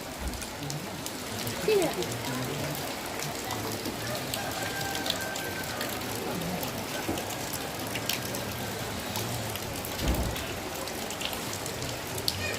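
Rain falls steadily at an outdoor gathering for a Rambu Solo funeral ceremony at a tongkonan, a continuous patter on surfaces with occasional louder drops, while voices murmur in the background.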